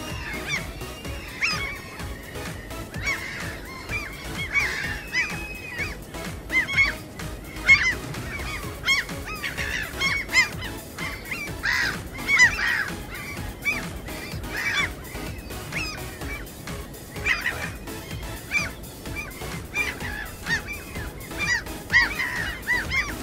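Seagulls flying over the coast give repeated loud, harsh cries in irregular bursts, some overlapping, throughout a long stretch with a faint airy background and no talk.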